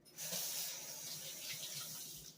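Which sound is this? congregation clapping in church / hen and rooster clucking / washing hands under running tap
washing hands under running tap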